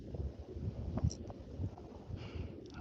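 Low, gusty wind buffeting the microphone while fishing outdoors in New Jersey, rumbling unevenly throughout with faint rustles on top.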